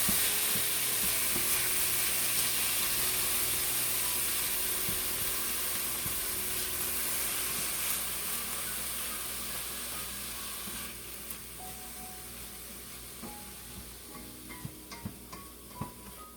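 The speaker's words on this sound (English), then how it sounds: "Our garlic, and we're going to let that saute until it's translucent" Garlic sizzles steadily in hot oil in a pan for vegan stew, a loud continuous frying hiss that gradually softens, with a few light stirring clicks toward the end.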